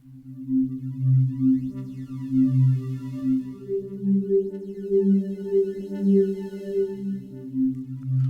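Pure synthesizer sine tones swell in and out smoothly, alternating low pitches with soft, gradual onsets and no sharp attacks.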